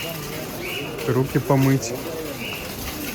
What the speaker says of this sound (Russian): птички поют какие-то. Попугаи